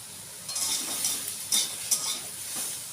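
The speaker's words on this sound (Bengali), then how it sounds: "এবার শুধু খুব ভালো করে নাড়াচাড়া করে নেব। দেখো কিছুক্ষণ নাড়াচাড়া করে ভাজা ভাজা করে নিয়েছি।" Turmeric and salt are stirred into hot oil in a pan, giving a steady soft sizzle with a few sharper scrapes of the spoon against the metal.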